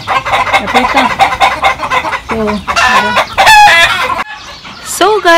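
Chickens cluck busily and a rooster crows loudly and nearby at a farm with goats and poultry, with several long crows breaking through the steady noise of the flock.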